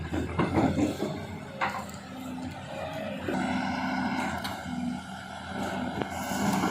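A Liugong 920E excavator digs out rubber tree stumps and roots, its engine a steady near drone with intermittent clanks and scraping of the bucket and boom hydraulics throughout.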